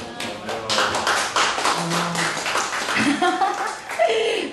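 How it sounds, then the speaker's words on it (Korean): Lecture audience at an invited talk clapping, a dense round of applause with sharp taps and some laughter mixed in, moderately loud, with voices heard toward the end. "박수 지금 딱세번 치셨어요"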